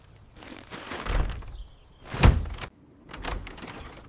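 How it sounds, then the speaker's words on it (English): A household door is pushed open with a few clunks and scrapes, including one loud thump partway through, then softer knocks as it is held. "Yes, I am holding the door open."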